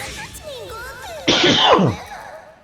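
A single loud, close sneeze bursts out over commentary on a Guilty Gear Xrd fighting game match, lasting under a second amid ongoing background speech and game sounds.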